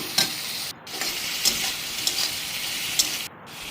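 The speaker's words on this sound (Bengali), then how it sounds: "এবার মশলার সাথে ভালো করে কষিয়ে নেব" Spice paste, onions and flattened rice sauté in a pan: a constant sizzle is punctuated by a few crisp scraping strokes of a spatula, close and clear with no talking.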